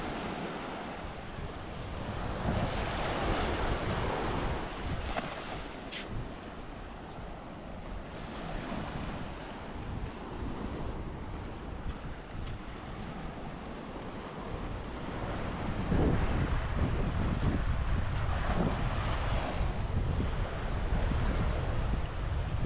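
Sea waves rolling onto Kappad beach in Kerala, a steady broadband roar of surf with gusty wind across the microphone, swelling louder toward the end, no voices.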